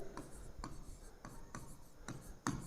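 Chalk or marker scratches on a classroom board in short, regular strokes, roughly one every half second, close and fairly quiet, with a sharper stroke near the end.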